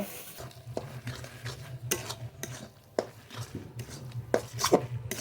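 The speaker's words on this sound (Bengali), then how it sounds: "একইভাবে বেটে নেব" Roasted rice being ground by hand for coconut laddoos, heard as irregular scraping strokes and sharp knocks of the grinding stone, fairly close and moderately quiet, with no speech.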